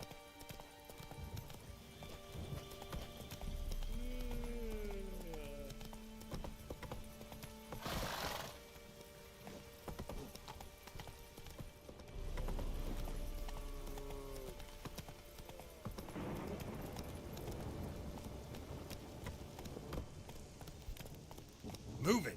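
A horse gallops in The Witcher 3, hooves clip-clopping in a steady rhythm with two whinnies and snorts between stretches of running, and a voice talking over parts of it.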